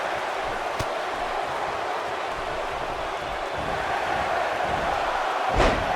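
In the WWE 2K18 video game, an Elimination Chamber match crowd gives a steady, broad roar that swells slightly, with a single thud near the end.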